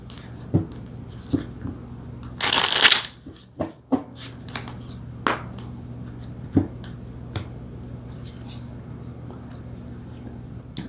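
Tarot cards shuffled by hand during a reading, with a dense riffling burst near the middle and scattered sharp card snaps and taps before and after over a low steady hum.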